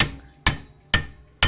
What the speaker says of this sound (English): I'm getting the metal hammer for that.